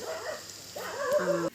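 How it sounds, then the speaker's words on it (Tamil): A dog barks a few times outdoors at 4 a.m. during a village Mariamman temple festival, the short yelping calls fairly near and clear over quiet background hiss. "நாய் குலைக்குது."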